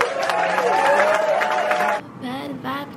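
Warm audience applause and cheering for performers on a stage, a dense, loud crowd roar that cuts off suddenly, after which singing and music take over.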